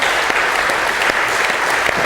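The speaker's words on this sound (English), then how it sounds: "Let's give a round of applause to them." An audience at a food sovereignty prize event claps steadily, a dense, loud wash of applause sustained throughout.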